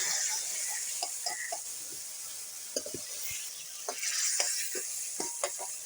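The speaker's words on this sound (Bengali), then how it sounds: "ফুলকপিগুলো এখন ভাজা হয়ে গেছে" Cauliflower pieces fry in a pan with a steady, hissing sizzle, broken by scattered clinks and scrapes from a utensil moving the pieces around.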